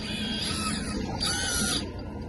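An MN82 RC car's brushless motor runs in a steady high-pitched mechanical whine during a test, rising briefly in intensity partway through, close and alone with no voices.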